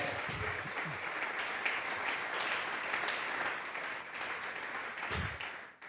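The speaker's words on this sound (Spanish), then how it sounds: "está diciendo Pedro, vamos a regalarle ofrenda de palmas al Dios de la gloria." A church congregation claps together as an offering of praise during a Tuesday Bible study, sustained applause that fills the room at an even level before tapering off near the end.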